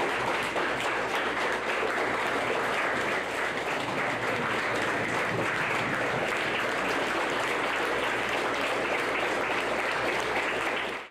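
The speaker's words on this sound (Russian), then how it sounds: "Но главной наградой героям в этот день стали аплодисменты." Sustained audience applause at a ceremony honoring heroes, a dense, even wash of many hands clapping that holds steady throughout and stops abruptly.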